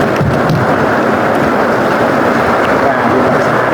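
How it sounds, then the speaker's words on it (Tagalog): A strong wind roars without a break, loud and dense, like a storm gust hitting the microphone. It stays steady throughout, with the rumble of the buffeting filling the low end. "Grabe lang yung kalakas ng hangin."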